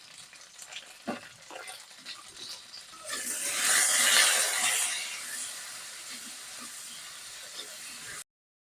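Flat beans (shim) fry in a pan with turmeric and salt, a soft crackle giving way to a loud, hissing sizzle that swells mid-way and then eases, with a few stirring clinks nearby and no talk.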